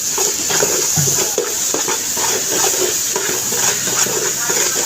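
Onion, tomato and curry leaves frying in a tempering for tomato rice, a steady sizzle with occasional stirring scrapes and utensil clinks in a home kitchen.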